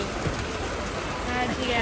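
Steady rain hisses throughout, a dense even wash of drops with faint murmuring underneath.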